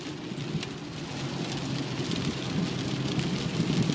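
Steady rain falls outdoors and patters evenly on nearby surfaces, a constant dense hiss with a low rumbling undertone and no voices.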